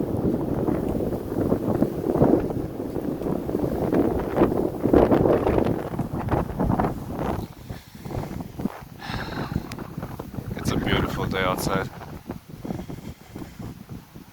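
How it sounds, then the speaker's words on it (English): Steady gusty wind buffeting the microphone outdoors, with a person speaking briefly over the rumbling, uneven wind noise. "It is windy, but wind is necessary."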